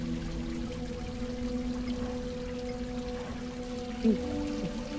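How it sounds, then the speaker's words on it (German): A small trickle of street runoff flows through a sewer in a video game, a soft steady pour under faint low ambient drones, with one brief bright splash midway. "Hier ist ein Rinnsal. Das ist das Wasser von den Straßen."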